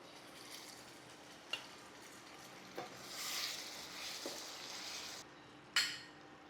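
Chicken being stirred in a hot pan, a continuous close sizzle broken by a few sharp spatula scrapes and clacks against the pan, with no talking.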